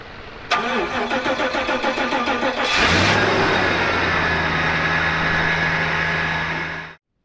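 A van engine cranks in a rapid rhythmic chug, catches after jump-starting from a Subaru, revs up loudly, then settles into a steady idle before cutting off.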